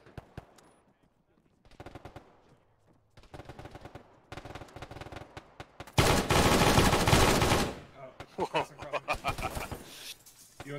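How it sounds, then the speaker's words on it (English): Bursts of automatic and single gunfire in the Arma video game during a ShackTac mission, coming in separate volleys, one long loud sustained burst near the middle, then rapid sharp shots, with a quiet voice in between. "taking fire from outside"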